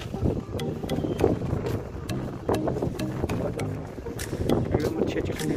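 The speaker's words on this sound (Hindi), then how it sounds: "एकदम अच्छी अच्छी ठंडी ठंडी हवा चल रही है नदी किनारे, वहाँ गंगा के किनारे।" Cool night wind blows along the Ganges riverbank in Rishikesh, buffeting the microphone in a steady, rushing roar with a few gusts, while indistinct voices murmur underneath.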